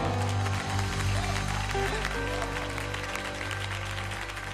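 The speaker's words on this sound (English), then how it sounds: "Somebody give the Lord a hand clap." Congregation clapping at a live gospel concert in Raleigh, a continuous wash of hand claps from a large audience under sustained organ and band tones, fairly distant and steady.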